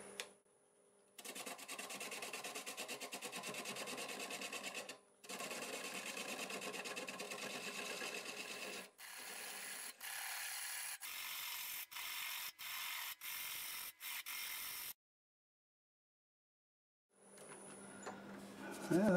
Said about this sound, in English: I'm going to use a 1/2-inch bowl gouge and see if we can get most of it off